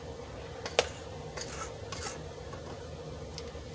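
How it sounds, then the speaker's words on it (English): A utensil scrapes chocolate fudge cake batter against a bowl, producing faint soft rubbing strokes with a couple of sharper clinks and scrapes near the start, quiet and close with no talking. "Just a little bit of a scrape."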